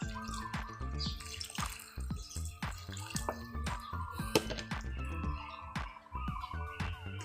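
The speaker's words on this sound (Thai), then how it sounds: "ทุกคนเราก็จะรดน้ำด้วยเครื่องดื่มชูกำลังนะคะหนึ่งฝาใส่ลงไป แล้วก็รดลงไปเลยค่ะ" Diluted energy drink is poured onto a freshly planted small caladium in a pot, a close, continuous splashing and dripping of liquid lasting several seconds, with no talking.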